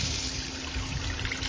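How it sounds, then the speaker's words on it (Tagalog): Chicken stock pours into a pan for pancit bihon with a steady, close splashing trickle that runs throughout the short moment without a break. "Lagyan natin yung chicken stocks."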